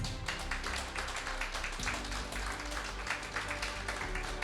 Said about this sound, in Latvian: Sagaidām ar aplausiem uz mūsu saules laivas skatuves.